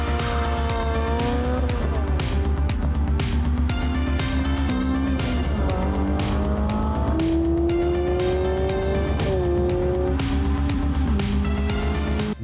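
A Honda Civic engine drones steadily on an airfield track with rising and falling revs and tire squeal, loud and continuous, mixed with a busy musical backing throughout.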